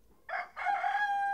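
A rooster crows loudly and close by, a short burst then a long sustained call with a clear ringing tone, no other sounds around it.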